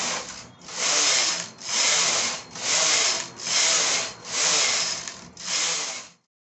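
A domestic knitting machine's carriage is pushed back and forth across the needle bed to knit rows of a beanie, making six steady, even whooshing passes with short pauses at each turn, close and loud with no voices.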